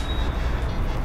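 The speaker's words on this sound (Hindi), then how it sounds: "गाड़ी आ रही है" A vehicle draws near on a road outside a home, a loud, steady broadband rumble of engine and tyre noise filling the whole second without a break.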